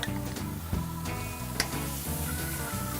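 Steaks hit a very hot gas grill over a scorching fire, giving a steady, crackling sizzle that runs throughout with a few sharper pops, close and with no one talking.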